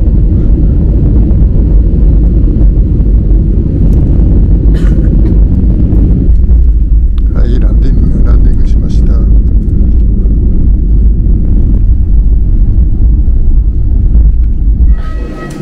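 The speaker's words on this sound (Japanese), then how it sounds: "旋回してすぐファイナルアプローチって感じですね" Loud, steady engine roar from inside the cabin of an airliner on final approach to Fukuoka Airport, with the noise shifting about midway and a person talking over it.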